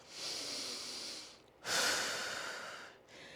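A person breathes deeply through a floor or bed stretching exercise for stiff shoulders and upper back: a long slow exhale, a brief pause, then a stronger, louder breath, close and without speech.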